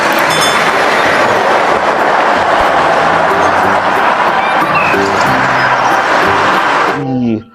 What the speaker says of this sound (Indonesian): ada kereta api teman